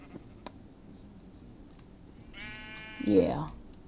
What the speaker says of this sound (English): Ah, yes, sheep.